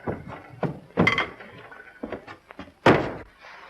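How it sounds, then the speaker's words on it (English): A door swings shut with a solid thunk inside a 1930s home, a couple of muffled knocks and shuffles before it and one sharp, close closing impact near the end, no talk over it. "Will you close this door, please?"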